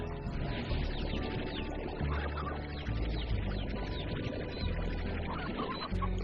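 Water is collected in the Slime Rancher video game, a continuous rushing, pouring flow that runs steadily for several seconds, loud and close, over soft background game sounds.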